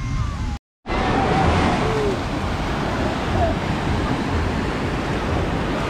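Sea waves at Saidia beach in Morocco, a steady broadband wash of surf close by and loud throughout. It carries on almost without a break apart from a brief cut near the start.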